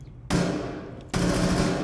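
Video game gunfire in two loud sustained bursts of rapid shots, close and steady, separated by a brief gap.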